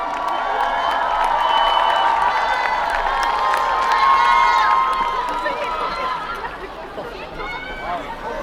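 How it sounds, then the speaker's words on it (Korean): Crowd at an outdoor festival closing-ceremony concert cheers and shouts loudly, a sustained mass of excited voices and scattered claps that gradually eases off over several seconds. "요즘에 물 마실 때 환호해주는 게 서로 민망하지 않게 배려하는 문화라고"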